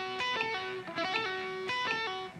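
Electric guitar plays a lick, a quick repeated phrase of picked notes and bends with a slightly driven tone, cycling several times with a bouncy rhythm at moderate volume.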